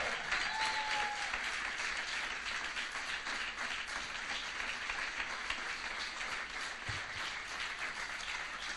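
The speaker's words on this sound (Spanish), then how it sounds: "Denle un aplauso fuerte al Señor." A church congregation applauding loudly and continuously, dense steady clapping throughout with a faint voice briefly underneath.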